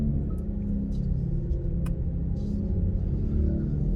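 A Hyundai Ioniq 6 electric car plays its artificial driving sound in normal mode, a steady low synthetic hum that stays continuous and close, with a few faint ticks on top.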